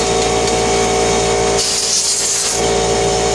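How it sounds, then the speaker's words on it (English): Compressed air bursts from an air hose, cleaning a guitar fretboard in a workshop: a loud hissing blast lasting about a second, set against a steady mechanical hum. "You can hear the air compressor in a second."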